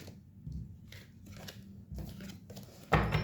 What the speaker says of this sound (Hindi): इतने ज़्यादा कार्ड क्यों गिर गए